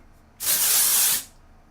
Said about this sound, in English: A little bit more texturing spray.